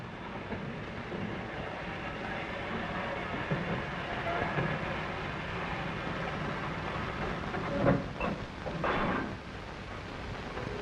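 Norfolk and Western time freight pulling out for the run to Tidewater, a steady rumble of railcars and clatter, with louder bursts of rail noise toward the end.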